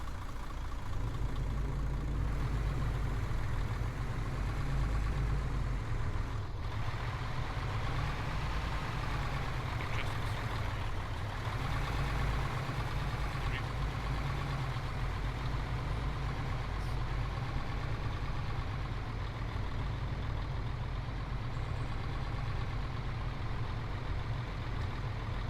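Heavy trucks idle and rumble in a military video game convoy, a steady low engine drone holding loud and continuous with faint hiss and clatter above it.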